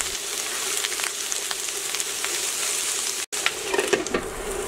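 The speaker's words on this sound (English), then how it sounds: "cook these vegetables for about 5 minutes" Carrots, white onions and other vegetables fry in a pan with a steady, close crackling sizzle and a few scattered pops, broken once by a momentary dropout.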